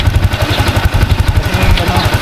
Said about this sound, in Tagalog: Testing ko lang tong motor ko.